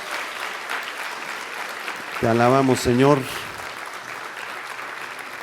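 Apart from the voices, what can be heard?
congregation applause in church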